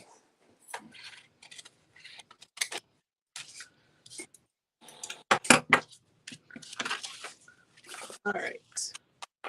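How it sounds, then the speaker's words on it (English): Scissors make a series of short snips and crunches while cutting material during bag sewing, with zipper tape nearby. The cuts come close and irregular, with a person talking between them. "I'm just going to use my scissors to cut this"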